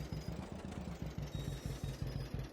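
A small farm tractor engine in Farming Simulator 22 chugs with a steady low, rhythmic thump, idling or running slowly, close and alone.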